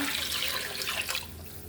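A brief rush of poured water splashing into a pressure cooker pot for biryani, close and fairly soft, tapering off near the end.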